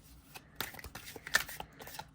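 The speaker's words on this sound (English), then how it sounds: "They shuffle really good overhand." Large oracle cards, about tarot size and stiff, are shuffled overhand in a few quick, soft riffling bursts close to the microphone.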